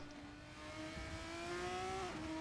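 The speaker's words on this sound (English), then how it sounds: "Peter Gelderhuis is driving a two-wheeler GP3 car" A GP3 race car driven on only two wheels in a sim racing game around the Singapore circuit whines with a rising engine tone, fairly faint and steady, shifting pitch near the end, with no talk.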